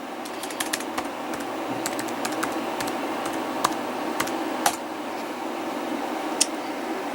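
Fingers type a login on a MacBook keyboard: scattered soft key clicks and a few sharper taps over a steady low background hum, close and fairly quiet.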